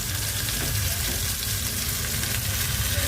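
Prawns coated in semolina and rice flour fry in hot oil with a dense, steady sizzle that stays loud and close throughout, with no talking.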